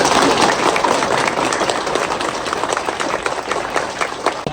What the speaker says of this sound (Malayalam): കസ്റ്റമർക്ക് വലിയൊരു കയ്യടി കൊടുക്കണം.